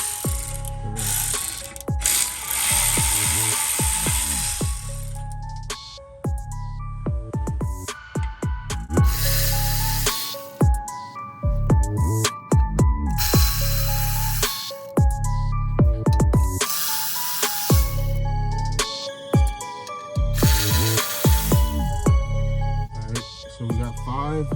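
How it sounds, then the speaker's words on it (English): Hand ratchet clicking steadily while loosening the flywheel bolts on a BMW E46 M3, close and loud, with repeated bursts of rapid pawl clicks broken by brief pauses and a voice talking underneath. "now I'm just gonna use a ratchet to remove"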